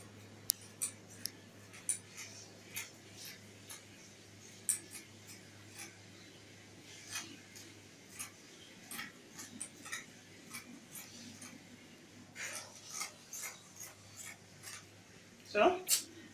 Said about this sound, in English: So now I'm going to cut it out.